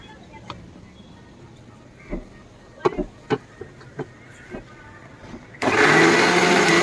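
A mixer grinder bursts into a loud, steady whirring grind of masala spices near the end, after several sharp knocks and handling clicks in a quiet kitchen.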